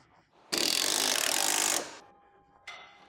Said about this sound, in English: Use a 10mm deep socket with an electric impact to tighten the upper bolts.